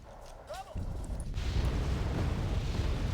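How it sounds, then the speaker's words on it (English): Artillery fire in the Wargame Red Dragon video game, set in a Desert Storm scenario, starts as a sudden loud rumbling blast that builds into a sustained, dense roar of explosions. "that's the artillery"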